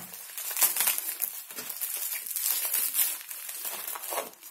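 A glass jar of adjika being unwrapped from bubble wrap, with steady crinkling and crushing plastic noises that come in bursts close to the microphone and carry no talk.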